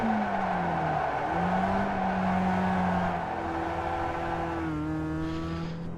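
A car in a racing game on the Okayama circuit drifts with a long, sustained tire squeal over a steady engine drone, the pitch shifting as the slide goes on, with no voices.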